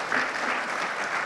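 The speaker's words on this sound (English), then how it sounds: "Round of applause for our Amendment 3" Brief burst of dense audience applause after a panel debate on constitutional amendments, a full, even wash of many hands clapping, moderately loud.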